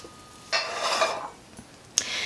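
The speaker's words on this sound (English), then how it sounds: "scoop it into our pan" Shortbread crust mixture scooped into a baking pan for pecan pie bars, two separate scraping, rubbing bursts about a second apart, close and fairly quiet, with no talking.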